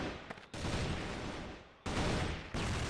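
Rapid bursts of gunfire in the competitive shooter CrossFire during a grand finals match, loud dense volleys with short breaks between them and no talk over the shots.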